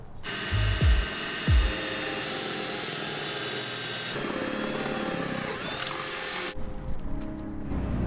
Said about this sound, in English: I'm just gonna drill some small holes